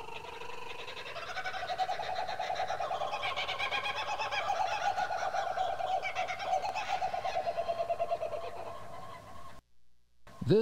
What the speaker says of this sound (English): This raucous cawing is the great gray bower bird.